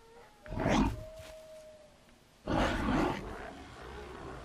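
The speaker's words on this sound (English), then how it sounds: "It's definitely wolves." Wolves in the game Valheim give two loud, rough howling cries about two seconds apart, each swelling and fading, with no other sound.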